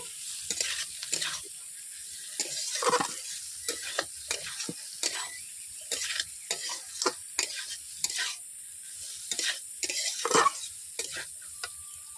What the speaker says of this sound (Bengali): আলু দেওয়ার পর আমি এইভাবে 5 মিনিট কষিয়ে নিচ্ছি।